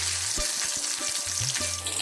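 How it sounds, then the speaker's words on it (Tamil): Steady hot-oil sizzling and crackling of curry leaves frying in a pan, continuous and close. "கருவேப்பிலை இலைகள் ஆயிலில் நல்லா பொரிய விட்டுருவோம்"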